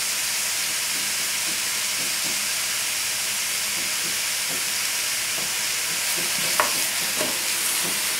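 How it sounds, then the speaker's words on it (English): Onion and garlic cooking in a soup pot, a loud, continuous sizzling hiss with faint occasional scrapes and clicks, no voices. "There's nothing here except cooking onions"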